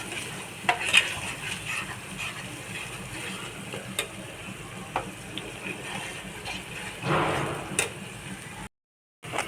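A yogurt masala for katla or rui fish curry, thickened with besan, is sautéed and stirred in a pan. A steady low sizzle carries scattered utensil taps, and a brief cut of silence comes near the end.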